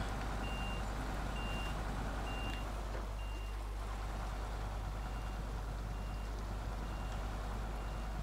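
A truck in the video game Snowrunner, the Azov Atom, sounds steady reversing beeps at an even rhythm over a continuous low engine rumble, with no talk.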